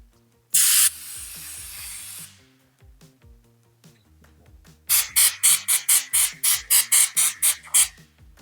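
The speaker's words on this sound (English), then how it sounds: "Okay, so we got that sprayed." A long hiss of wall texture spray from an aerosol can, about 12 inches away, then about a dozen short, loud spray bursts in quick succession.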